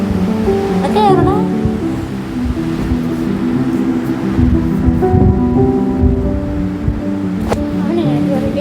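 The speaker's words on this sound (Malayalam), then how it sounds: "നല്ല മഴ വന്നു ഗൈസ്" Heavy rain pours in a loud, steady roar, close by, while people talk and call out over it throughout.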